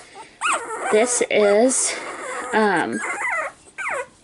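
Young Cockapoo puppy from a litter whimpering and yipping in short high-pitched bursts close by, heard under a person talking.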